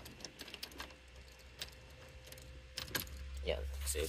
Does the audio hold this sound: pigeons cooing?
no